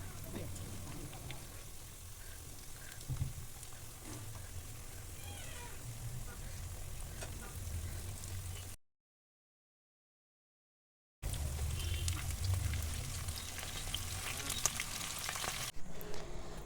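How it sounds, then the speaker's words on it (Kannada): Potato pakodas deep-frying in hot oil, a steady dense sizzle running throughout with a short silent gap partway; no talking over it. "ಈ ರೀತಿಯಲ್ಲಿ ಎಣ್ಣೆಯಲ್ಲಿ ಫ್ರೈ ಮಾಡ್ಕೊಳ್ಳೋಣ ಡೀಪಾಗಿ."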